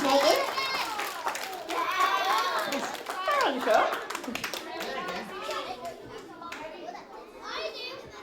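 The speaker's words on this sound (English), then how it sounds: "give Megan a round of applause." Children cheer and clap amid lively, excited chatter, with shouting voices throughout.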